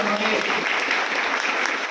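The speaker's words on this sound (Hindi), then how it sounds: "इनके लिए जोरदार तालियां एक बार होनी चाहिए" Audience applause at a motivational closing speech, a dense burst of clapping that carries on evenly under a loud voice talking.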